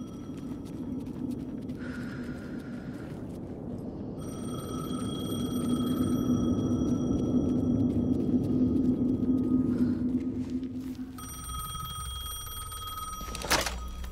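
Telephone ringing in the video game Alan Wake 2, a steady electronic ring sounding in repeated bursts over a low droning ambience, ending with a sharp click.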